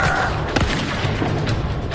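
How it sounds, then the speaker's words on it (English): Black powder muskets and rifles firing at a Civil War reenactment of the Battle of Atlanta in Keokuk, Iowa, with one sharp boom standing out from a rumbling outdoor background, fairly loud and brief. "they are using muskets from the Revolutionary War and rifles from the Revolutionary War"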